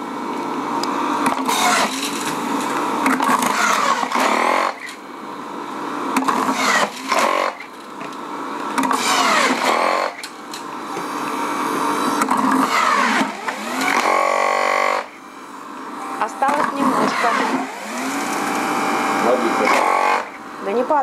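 An electric juicer squeezing fresh juice, its motor whining loudly and steadily, with the pitch repeatedly sagging and recovering as the load changes, cut by brief dips throughout.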